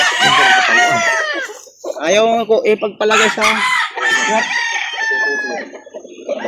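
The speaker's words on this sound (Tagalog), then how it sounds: "ito mga manok" Roosters crow loudly and repeatedly, long stretched calls overlapping with hens clucking nearby, while a person talks briefly underneath.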